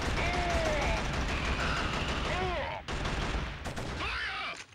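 Video game gunfire in Killzone, a rapid rattle of shots from a firefight under in-game voices and effects, fairly faint overall with a short break midway.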